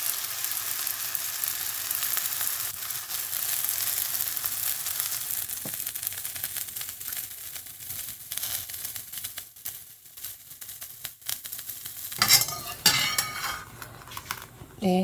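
Vietnamese bánh xèo pancake batter fries in vegetable oil in a pan, giving a continuous close crackling sizzle with occasional utensil clinks and a brighter burst of spitting near the end.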